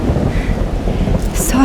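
Thunderstorm in the video game Life Is Strange Double Exposure: a steady low rumble of thunder and rain fills the scene, with a brighter crackle and hiss near the end.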